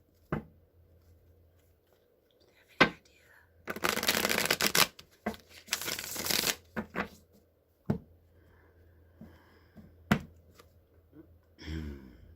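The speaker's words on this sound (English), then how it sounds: "I'm just going to pull one card." Tarot cards being shuffled by hand in quiet surroundings, two close, crisp riffling bursts in the middle with scattered single card taps and snaps before and after, no talk.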